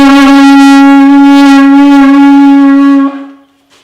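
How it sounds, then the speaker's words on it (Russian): A wooden hunting horn sounds a loud, sustained blast holding one steady low note with rich overtones, ending abruptly before a brief quiet tail. "рог деревянный, охотничий"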